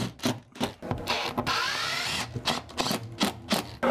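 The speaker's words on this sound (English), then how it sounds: "You just want to screw these washers in to where you're kind of indenting it into the board." A power drill drives screws with washers into waterproofing board on tub shower walls, giving short repeated whirring bursts with brief pauses and a longer grinding run, close and clear.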